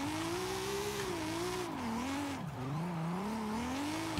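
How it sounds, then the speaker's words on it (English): A drifting car in the Forza Horizon 5 racing game holds a long, loud engine drone with a sliding, wavering pitch, steady throughout with a faint squeal from the tires as it slides, and no talking. "The car is going to slide, and we set it up for that."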